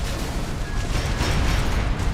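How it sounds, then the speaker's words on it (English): A big explosion from Armored Core VI mech combat, a loud, dense burst of low rumble and crackling noise that holds for about two seconds. "Oh, that's a pretty big explosion."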